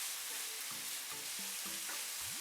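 Vegetables and chicken frying in a pan, a close steady hiss of sizzling oil with short, tonal spatula scrapes repeating through it.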